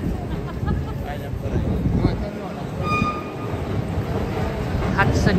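Inside the Hudson Yards subway station in New York City, served only by the 7 train, with a steady rumble of rail noise and a train moving through the station, heard under nearby talk and crowd murmur.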